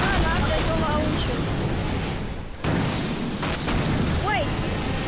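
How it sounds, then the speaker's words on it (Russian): Grenade-launcher blasts in Garry's Mod: booming explosions thud through a dense, noisy game mix, with a sharp burst near the end, while a voice talks over the action. "что-то гранаты кидают жесткие такие. Это не граната, это лаунчер."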